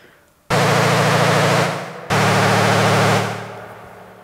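An Arturia PolyBrute synth with its two oscillators pitch-modulated by different amounts, playing two loud sustained buzzing chords with a warbling, detuned shimmer, each cut off abruptly, the second held then fading.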